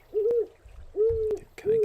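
An owl in the Colossal Cave video game hoots three times, each a clear, sustained tonal hoot with short gaps between, heard alone against a quiet background.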